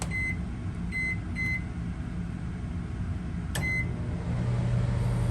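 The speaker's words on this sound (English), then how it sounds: "the microwave is working" A microwave oven hums steadily while powered by a GENMAX GM3300i inverter generator, with a low droning whir throughout and a few short electronic beeps near the start.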